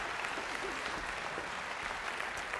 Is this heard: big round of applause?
yes